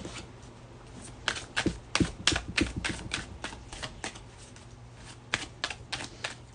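Rapid riffling clicks of cards being shuffled, in quick bursts with short pauses, close and fairly quiet.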